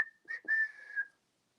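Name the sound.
person imitating a trickery whistle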